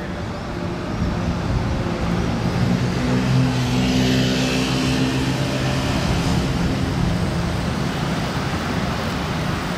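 A car with a closed exhaust passes on a road, a broad, fairly quiet rumble and tyre roar that rises and swells toward the middle and then holds steady as a wash of traffic noise.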